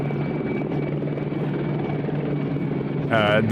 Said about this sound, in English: I'm convinced they have the helicopter in the game